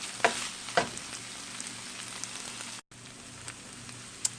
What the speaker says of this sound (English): We're going to stir this around, excuse me. Stir that around